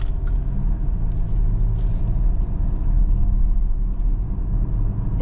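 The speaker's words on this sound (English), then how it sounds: "And on the road, the diesel noise is okay." The 2.2-litre diesel engine of a 2022 Kia Sorento drones while driving, a steady low rumble with road noise from inside the cabin, continuous and fairly loud.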